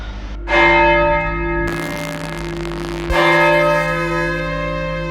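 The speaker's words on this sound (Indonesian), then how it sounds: "Tiba-tiba suara lonceng terdengar tepat dari atas kepala mereka." A large church bell strikes twice, loud and resonant, each toll ringing out with a long, shimmering decay of overtones.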